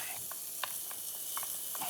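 Onions frying in olive oil in a saucepan for paella, a close, steady crackling sizzle with scattered pops and spits throughout.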